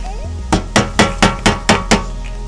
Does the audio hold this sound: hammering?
yes